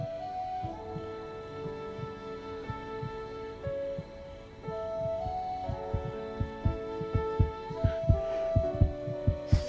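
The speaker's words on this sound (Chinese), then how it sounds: "这是心跳的声音。" Soft, regular heartbeat thumps pulse through a fantasy drama scene beneath sustained musical tones. The beat holds an even rhythm and grows a little louder toward the end, with no talking.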